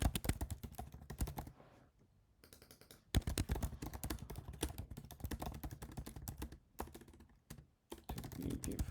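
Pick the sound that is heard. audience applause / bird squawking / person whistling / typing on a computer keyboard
typing on a computer keyboard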